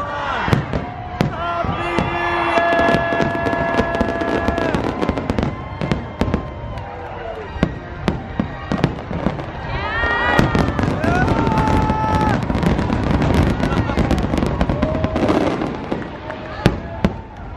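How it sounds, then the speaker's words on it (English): Fireworks crackle and boom in rapid, dense bursts at Disney World, loud and continuous, with people talking and cheering faintly underneath. "In the sky, fireworks spectacular."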